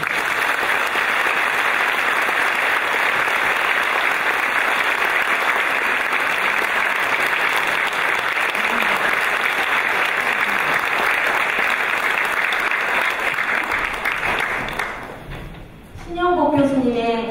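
A seated audience at a memorial gathering for the Sewol ferry disaster gives a long, dense round of applause, loud and sustained for about fifteen seconds before tapering off, followed by a voice speaking.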